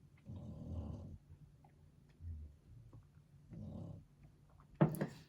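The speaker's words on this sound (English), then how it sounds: "Baby's been snoring this whole time, huh?" A baby snores softly at close range, slow rhythmic rasping breaths in two or three low drawn-out cycles, faint under a quiet room hum, ending with a brief louder rustle.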